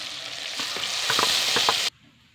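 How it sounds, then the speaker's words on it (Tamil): Ground masala hits hot oil for a Tamil brinjal curry, giving a loud steady sizzle with a few stirring scrapes, cutting off abruptly near the end. "அரைச்சி வச்ச மசாலாவை சேர்த்துக்கிடுவோம்."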